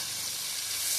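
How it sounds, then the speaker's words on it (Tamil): Sliced onion sautés in a pan with a pinch of salt, a short, steady, close hiss of sizzling oil with no pauses. "வெங்காயம் கொஞ்சம் வதங்கிறதுக்காக லைட்டாக உப்பு போட்டுக்கிறேன்."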